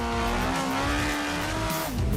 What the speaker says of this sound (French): Quand on a un moteur complètement dément derrière la tête, on ne s'entend plus penser.